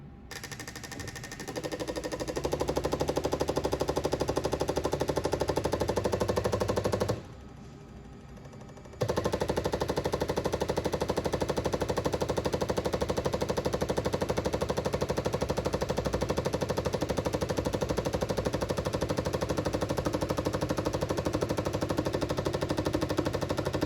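A fuel injector cycling on a flow bench test rig, with a steady rapid mechanical clatter running nearly throughout and a brief drop during a short pause before it resumes at full level.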